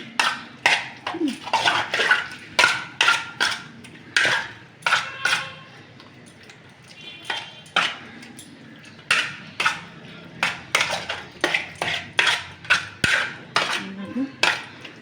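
A cracked egg is beaten into a mixture in a bowl, giving a steady, rhythmic run of close, bright clinks as the utensil strikes the bowl again and again, with a brief pause midway.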